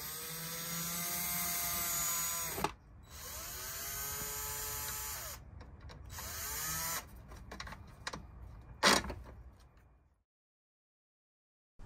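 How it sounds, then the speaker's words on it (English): A powered screwdriver removing screws from the inside window frame of an RV door: whining, rising and falling motor runs in several bursts with short pauses and small clicks, then silence. "Next, I took out the 16 screws"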